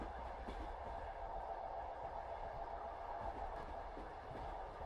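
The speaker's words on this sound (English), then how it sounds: "The train moves steadily onward" A night train rolls steadily along the tracks on a winter journey, its soft, continuous rumble and faint rail hum holding an even, unbroken level throughout.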